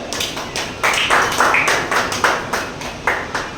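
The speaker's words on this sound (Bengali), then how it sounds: "জোরে হাততালি হোক একটা" An audience at a social worker's branch office gathering in Malda claps in bursts, a ragged run of close, sharp handclaps rising and falling with brief pauses.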